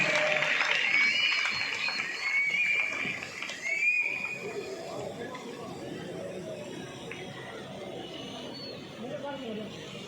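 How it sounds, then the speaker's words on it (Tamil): An audience clapping for children at a Tamil Nadu child welfare department event, a broad wash of applause from a crowd that is strongest at first and then thins, with a voice speaking over it. "ஒரு பலத்தை கைத்தட்டு கொடுக்கலாம்"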